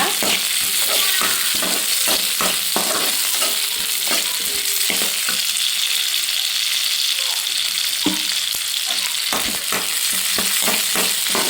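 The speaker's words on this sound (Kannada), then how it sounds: "ಚಕ್ಕೆ, ಲವಂಗ, ಈರುಳ್ಳಿ, ಬೆಳ್ಳುಳ್ಳಿ ಎಲ್ಲ ಹಾಕಿ ಫ್ರೈ ಮಾಡ್ಕೊತಾ ಇದ್ದೀನಿ ನಾನೀಗ" Cinnamon, clove, onion and garlic fry in a pan for sprouts sambar: a bright, constant sizzle with quick, repeated spatula scrapes up close, and no talk.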